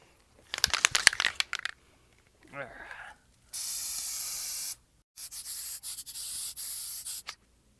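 FlexSEAL aerosol coating hisses from a can onto a dinghy transom in two sustained bursts, the second broken into short pulses, preceded by the rattle of shaking the can.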